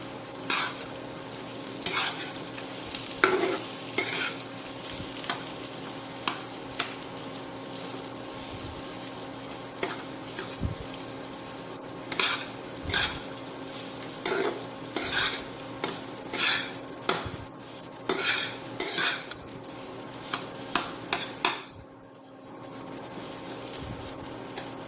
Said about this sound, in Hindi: 5 मिनट तक भूनें।